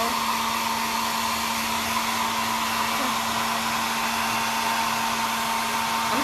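Hair dryer blowing on a handmade craft snowman, a steady close whirring hum with a constant airy rush, running alone without any talk.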